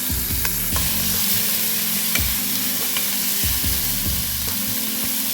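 Onions sizzle and fry in hot oil with popped mustard seeds and urad dal for a sirukeerai poriyal, a loud, continuous hiss with regular scraping stirs of a spoon in the pan.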